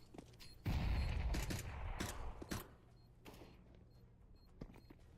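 Gunfire in a Counter-Strike: Global Offensive match, with a CZ pistol in use: a faint, quick burst of shots followed by a few scattered, quieter shots and mechanical clicks.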